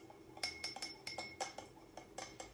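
A utensil clinks rhythmically against a glass or bowl while whisking olive oil into a strawberry salad dressing, quick light taps repeating unevenly at close range.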